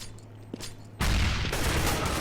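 Gunfire in Counter-Strike: Global Offensive during a 2013 tournament match at Copenhagen Games, with a faint tap and then a sudden loud, dense burst of shots that keeps rolling to the end.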